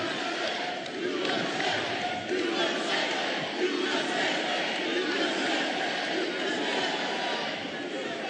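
A large crowd at a Trump rally roars and chants continuously, a dense wash of many voices shouting together at steady loudness throughout, with no single speaker standing out.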